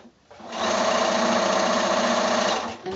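A sewing machine stitches quilt block squares for a Clay's Choice block in one fast, continuous, buzzing run that starts after a brief pause and stops just before the end.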